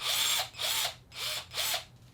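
A Harbor Freight 12 volt cordless drill, set to drill mode, runs in four short bursts, each a rising then falling whine separated by brief pauses, fairly close.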